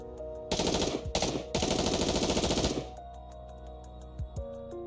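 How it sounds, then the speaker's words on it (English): A hail of automatic gunfire strikes a raptor's core in the video game NIKKE, loud rapid bursts in two stretches with a brief gap, then cutting off to a quieter tail with faint tones and a couple of soft thuds. "is promptly assaulted by a hail of gunfire to its core"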